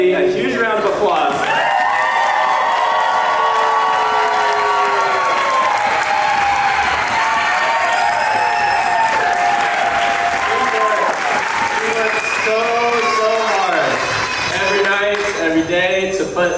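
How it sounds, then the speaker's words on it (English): Wedding guests stand and give a long, loud round of applause during the toasts, with voices and tonal music sounding over the sustained clapping. "give this lady a huge round of applause"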